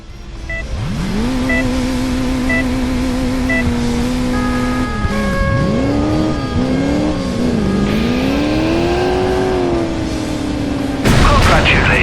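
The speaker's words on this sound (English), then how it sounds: "We have started a remote-controlled vehicle. Take up pursuit and stop it." Engine whine of a remote-controlled car in the driving game Crash Time 2, rising and falling steadily with pitch sweeps as it speeds along, loud and continuous with a burst of noise at the end.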